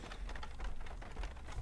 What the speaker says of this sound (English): It sounds like hail.